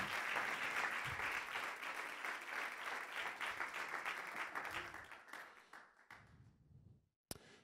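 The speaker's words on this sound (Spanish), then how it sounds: "Dale un aplauso al Señor" A church congregation applauding, a dense sustained burst of clapping from many hands that thins out and fades toward the end, followed by a sharp single knock.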